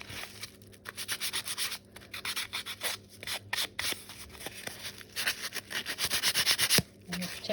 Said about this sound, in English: let's get the old sandpaper and creasing and rubbing